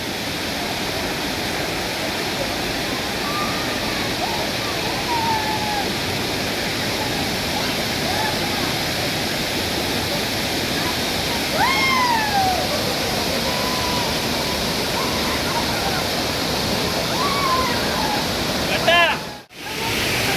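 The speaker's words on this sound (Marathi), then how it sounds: "चला तर आम्ही आता परत धबधब्यावर इलाव" A Konkan waterfall pours with a steady, loud, unbroken roar close by, and a few voices call out faintly over the rushing water.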